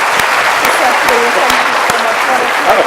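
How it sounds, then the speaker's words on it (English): A crowd gives Sadhguru a warm round of applause after his talk with a host, loud, sustained clapping from many hands with a faint voice threaded underneath. "let's give a warm round of applause to Sadhguru."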